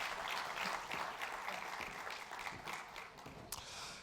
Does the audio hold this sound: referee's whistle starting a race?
no